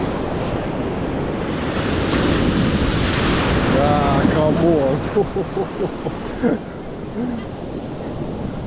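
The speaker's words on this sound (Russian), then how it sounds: "Видимо, там волны чуть побольше еще." Atlantic ocean surf on the Algarve coast near Albufeira, a continuous roar of breaking waves mixed with strong wind buffeting the microphone, with a person speaking briefly over it.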